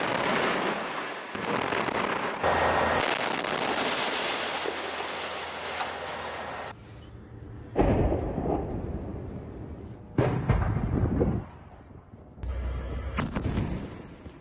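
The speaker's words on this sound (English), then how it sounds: "Israel blew it up." A Hamas weapons depot in Gaza blown up by Israeli forces, heard as a series of heavy, rumbling blasts and crackling bursts, loud and somewhat distant, separated by short lulls.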